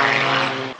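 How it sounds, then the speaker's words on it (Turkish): Propeller aerobatic aircraft at an Australian air show roaring past, loud and steady with a droning engine buzz, cutting off near the end. "Uçakların akrobasi gösterisi beğeni topladı."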